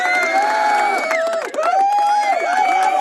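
A canned applause effect fires from a big orange button in a music talk-show studio. It is a loud, close burst of crowd cheering and whooping with a brief dip midway.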